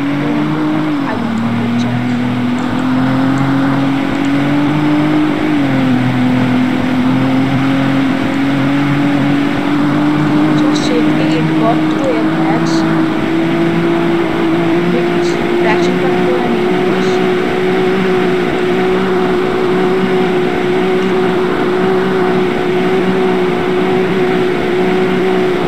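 A 2005 Honda Accord driving in the Roblox game Greenville, with a loud, continuous engine drone whose pitch climbs slowly as it accelerates, steady and close throughout.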